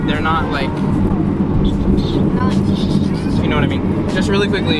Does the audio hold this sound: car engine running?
yes